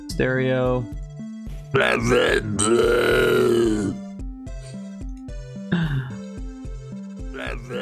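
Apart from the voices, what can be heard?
video game fish dying sound effect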